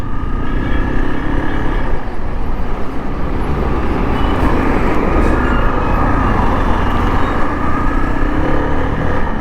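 Dense traffic on a bypass road with buses and other vehicles roaring past close by, a continuous loud rumble of engines and tires with no pause, heard from a motorcycle moving among them.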